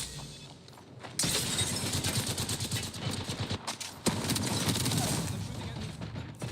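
Dense, rapid gunfire from the Apex Legends video game plays loud and continuous, with sustained bursts and a sharp break midway.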